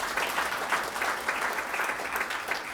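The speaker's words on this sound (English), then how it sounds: "Can we have a round of applause for her and her community" A room full of people gives steady, continuous applause, an even wash of many hands clapping at a moderate distance throughout.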